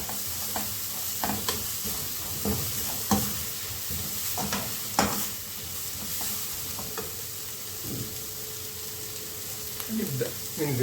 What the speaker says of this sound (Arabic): نبدأ ننزل بمكعب الزبدة مع البصل